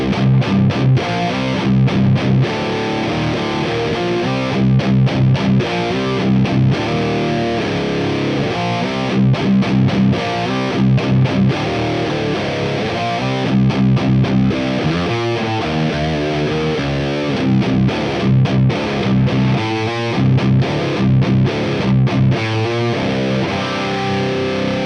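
Carvin CT6 electric guitar in drop C tuning played through a heavily distorted amp, loud sustained chugging riffs and chords running continuously with rhythmic palm-muted breaks, no voices.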